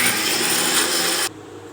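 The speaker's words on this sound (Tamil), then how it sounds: "இப்போ இஞ்சி பூண்டு அரைச்சிக்கலாம்" A loud motorized whirring of a kitchen mixer grinder grinding ginger and garlic runs steadily, then cuts off abruptly, leaving a quieter background hum.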